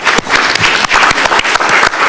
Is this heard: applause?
yes